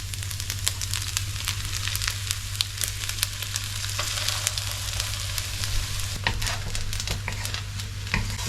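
Leftover rice and egg frying in a pan, a dense continuous sizzle with frequent crackles and the scrape of stirring, up close and without talk.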